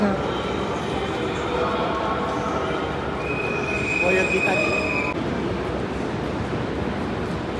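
A train rumbles steadily through Hamburg Central Station, with a high squeal of wheels rising midway over the constant mechanical roar.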